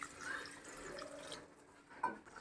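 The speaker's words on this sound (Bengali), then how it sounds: "তরকারিটার মধ্যে এবার দেবো একটু জল" Water poured into a pan of curry in a home kitchen gives a faint, soft trickle, with a brief splash near the end and no talking.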